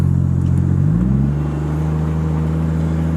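A 1994 Toyota Supra Turbo engine drones steadily from inside the car, its pitch sliding down and then settling lower as a gear change goes through, with no voices over it.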